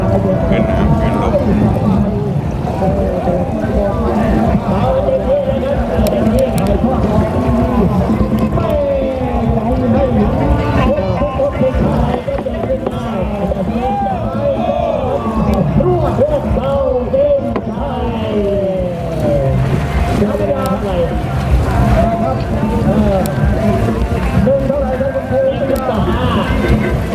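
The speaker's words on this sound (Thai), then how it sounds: "คลื่นมันแรงมากเลยนะครับคลื่นทั้งคลื่นลม" Strong wind and choppy waves on a river during a long-boat race in Kalasin, Thailand, heard as a sustained, loud, blustery rush with splashing water and wind buffeting the microphone, with an announcer talking throughout.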